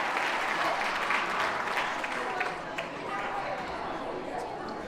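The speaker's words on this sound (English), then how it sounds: "Give Debbie a round of applause" An audience at an annual foundation celebration gala applauds, a dense sustained clapping that stays loud for several seconds and eases slightly toward the end, with faint crowd murmur beneath.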